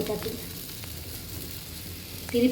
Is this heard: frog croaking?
no